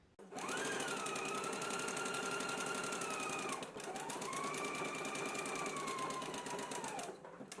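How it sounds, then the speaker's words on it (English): A sewing machine runs a zigzag stitch along a shoulder seam with a 5/8-inch allowance, whirring in two long steady bursts separated by a brief pause, close and clear. "we can go ahead and stitch in a 5/8 of an inch seam allowance, and I am using a zigzag stitch"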